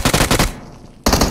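Rapid automatic gunfire in the battle royale video game BGMI, loud and close, with two quick bursts separated by a brief gap.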